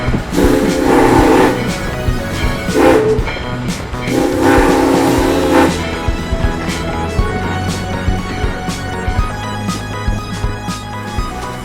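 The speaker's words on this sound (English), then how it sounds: "This is a steam train" Steam train in Chehalis, Washington, sounding loud, close whistle blasts in three bursts (long, short, long) over a steady low rumble of the locomotive and cars, with no talking.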